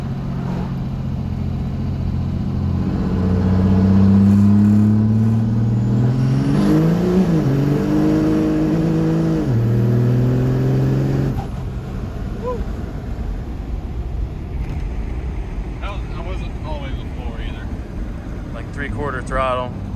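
A common rail second-gen diesel truck revs hard through a second gear pull with the converter locked, the loud engine note climbing for about eleven seconds before dropping away, with wind noise and faint talk afterward.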